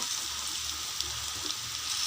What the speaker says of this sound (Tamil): இது கூட தக்காளி போட்டுக்கலாம்.